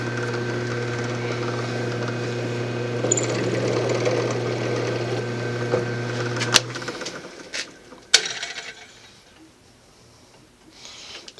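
A drill boring holes through fasteners for lock wire (safety wire) whines steadily with a humming motor tone, then cuts off, leaving a couple of sharp metallic knocks and a fading rattle.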